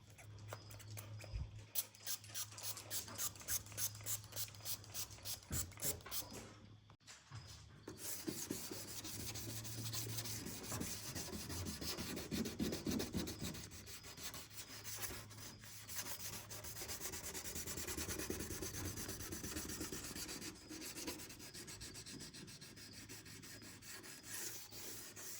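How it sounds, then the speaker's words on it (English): A car headlight lens on a K24 NC MX-5 racecar is sanded with a lubricated sanding pad: soft rhythmic rubbing strokes, quick and regular at first, then steadier continuous scrubbing, faint and close. "this is just to get some lube going on the headlight for the sanding pad."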